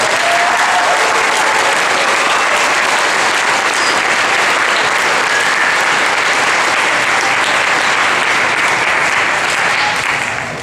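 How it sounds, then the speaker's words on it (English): An elementary school audience at a Veterans program applauds the choir, a loud, dense and sustained wash of clapping that carries on evenly for about ten seconds before easing slightly at the end. "Let's give them one more round of applause"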